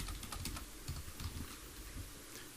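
Typing on a computer keyboard while writing Python code, a quick run of soft, close key clicks, faint and continuous with no talk.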